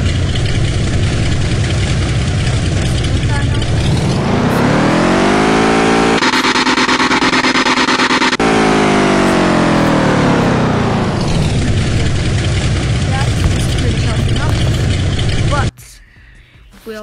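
Car engine in the Off-Road Outlaws video game revving on a dyno, a loud continuous roar that climbs in pitch, holds near the top, then falls back before cutting off abruptly.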